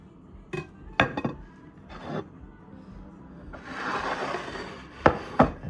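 A knife scraping the bottom crust off a slice of Muzzi Tommaso pistachio panettone: several short close rasping strokes, then a longer stretch of steady scraping, ending with two sharper scrapes.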